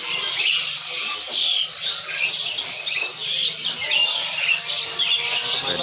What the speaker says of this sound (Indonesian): Kenari dari Malang bos.